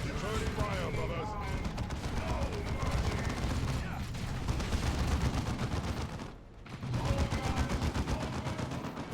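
Dense battlefield gunfire from the Dawn of War 2 strategy video game, rapid overlapping shots and bursts rattling steadily with heavy rumble, a brief dip midway, and a voice talking over it.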